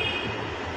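A metro train rumbling past at a station, a steady low roar with faint rail noise, fairly close and unbroken for the short moment.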